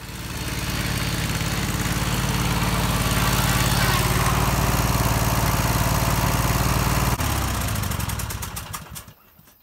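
A junkyard Briggs & Stratton 26 HP V-twin Intek engine, started without a battery by bridging with two pliers, runs with a loud, steady droning rumble close by for about seven seconds, then shifts pitch and sputters down to quiet.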